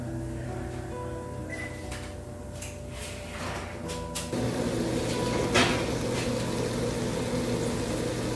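An oven door opens in a home kitchen so sausages can go back in to bake, giving a dull clunk against a steady appliance hum that grows louder and fuller once the door is open.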